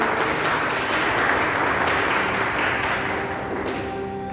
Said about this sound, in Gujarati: સ્ટેજ ઉપર ફરીવાર તાળીઓના ગડગડાટ સાથે તેમનું સ્વાગત કરું છું।